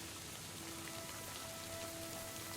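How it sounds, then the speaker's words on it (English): Steady rain in the medieval game Kingdom Come: Deliverance II, a constant even hiss of falling drops, with soft tonal music faintly underneath. "And it's raining."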